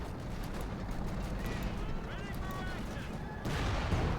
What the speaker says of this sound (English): 5th being mauled here by tank fire and machine gun fire there